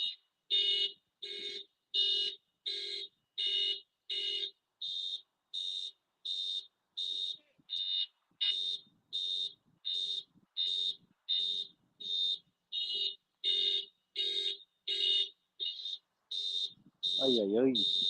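A battery-powered bite alarm on fishing rods set on the bottom goes off in a long run of regular electronic beeps, about one per second and fairly faint, and a brief vocal sound comes near the end.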